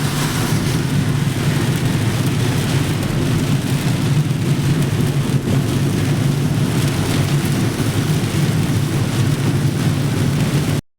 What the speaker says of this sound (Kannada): ಅಷ್ಟೊಂದು ಜೋರು ಮಳೆ ಸ್ಟಾರ್ಟ್ ಆಯಿತು ನೋಡಿ